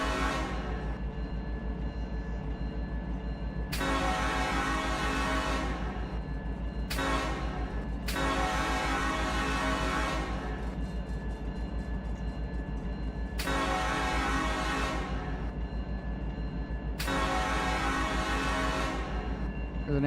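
Amtrak train in the Run 8 train simulator game passing on the Modesto to Fresno route, a steady rumbling rail drone with several long sustained horn blasts rising loud and cutting off in sequence over about twenty seconds.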